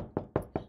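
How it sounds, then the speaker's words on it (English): Three evenly spaced sharp knocks on a door, close and crisp, told as a wolf knocking on a door made of sticks in a finger puppet story, each rap fading quickly in a quiet room. "So the wolf came to the stick door and knocked."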